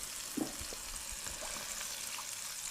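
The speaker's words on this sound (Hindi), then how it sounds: "तो हम इसमें थोड़ा सा पानी ऐड कर देंगे तुरंत का तुरंत" Water added to a thickening gram flour mixture cooking in a pan over a gas flame brings a steady sizzle and bubbling with a few soft stirring knocks, close and continuous.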